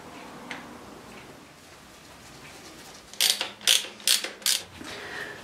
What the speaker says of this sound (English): let's put the bung back in